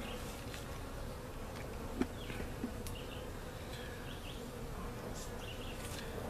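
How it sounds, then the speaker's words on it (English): A small swarm of honeybees clustered on comb gives a steady, continuous buzzing hum at close range, with a couple of faint soft taps and no talking. "it's just a cluster of bees."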